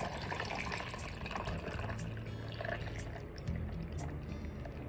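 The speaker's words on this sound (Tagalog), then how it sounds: "And I pour my milk." Milk poured over ice in a cup for taro milk tea, a steady close liquid pour with a slight gurgle that runs for several seconds without pause.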